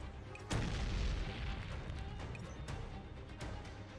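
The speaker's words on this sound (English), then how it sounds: "The explosion ignites the nearby trees, and soon the enemy position is surrounded by a ring of fire." A grenade blast in the video game Neural Cloud, a single deep boom at the start followed by a low rumbling tail that fades, with a few faint pops afterward; no talking.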